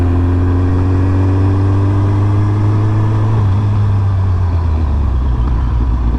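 A 2008 Suzuki Hayabusa motorcycle engine runs steadily and loud after sitting unused for over a year, its low idle hum holding a constant drone with a slight dip in pitch partway through, no talking.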